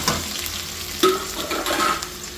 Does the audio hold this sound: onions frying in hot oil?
yes